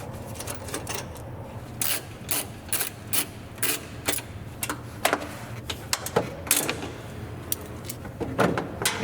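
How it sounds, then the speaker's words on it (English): A 10mm socket on an extension ratchet backs out headlight mounting bolts on a Chevrolet Express / GMC Savana van, giving repeated bursts of close, crisp clicking with short pauses between turns. "We are using 10mm socket and extension."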